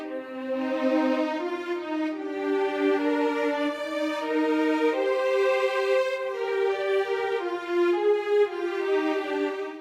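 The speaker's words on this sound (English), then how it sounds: "Here's how the ensemble patches sound on their own." Orchestral violin ensemble patches playing alone in a sample library for a battle theme, sustained bowed chords shifting through a slow legato line, steady and moderately loud with no voices.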